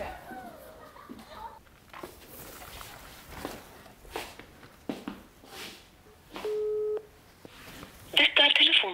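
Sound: telephone call ringing unanswered

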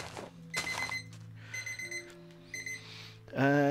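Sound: timer alarm going off

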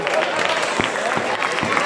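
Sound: crowd applauding at a bull-running encierro

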